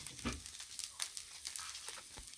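Ghatkol (vetkol) greens sizzle faintly in hot oil in a wok, with soft scraping bursts as the mixture is stirred every so often.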